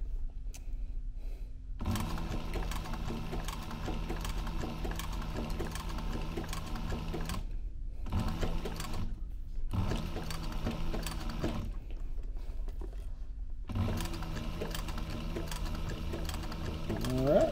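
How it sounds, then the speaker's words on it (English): A sewing machine stitching a heavy duffel bag hums and clatters in several long runs separated by brief pauses, close by, with a rhythmic mechanical ticking throughout. "We're just going to sew all the way to the top, back stitch"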